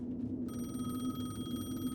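A payphone rings inside a dark payphone place in the video game Alan Wake 2, its bright electronic trill starting about a quarter of the way in and holding steady over a low game hum.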